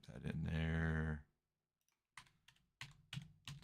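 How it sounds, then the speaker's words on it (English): Typing on a computer keyboard follows a short spoken phrase. Several quick bursts of crisp key clicks come close and moderately loud after a brief silence. "Let's just type that in there."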